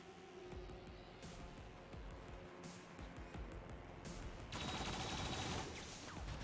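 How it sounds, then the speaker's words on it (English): Hostile weapons fire in XCOM 2 Long War of the Chosen, with bursts of gunshots in quick succession building to a louder, denser volley near the end, with no talk over it. "Taking hostile weapons fire."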